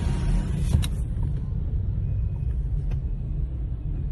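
A Governor House car carrying a dog passes nearby, a steady low engine rumble with road noise holding throughout, a brief brighter swell near the start.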